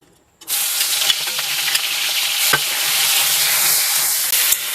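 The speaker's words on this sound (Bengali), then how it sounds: "তেলটা গরম হয়ে গেছে, এবার এই নুন হলুদ মেখে রাখা মাছগুলো এর মধ্যে দিয়ে দেবো।" Salted, turmeric-coated prawns drop into hot mustard oil and set off a sudden loud sizzle, then a steady bright frying hiss with a few sharp pops and crackles.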